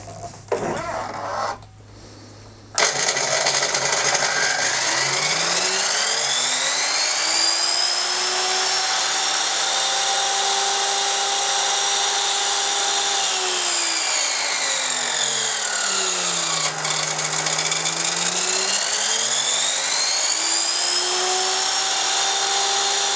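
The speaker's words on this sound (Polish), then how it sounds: "Teraz będę uruchamiał pilarkę, jest ona dosyć głośna" A loud Holzstar KGZ 305E mitre saw spins up with a high whine, its pitch dipping and rising as it cuts, running continuously and close by.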